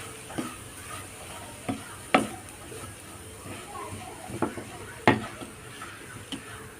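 A spoon scrapes and knocks repeatedly against a pan while red spinach and coconut are stirred together over low, soft sizzling. The strokes come at irregular intervals, close and clear.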